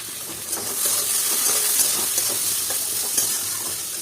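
Carrots sizzle in a pan over a low flame as they are stir-fried for fried rice: a steady, close frying hiss with soft scraping stir strokes throughout, no voices.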